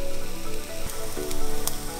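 Banana toast rolls with butter and chocolate pan-fry while being turned now and then, giving a continuous moderate sizzle with a few brief scraping taps over a faint steady tonal background.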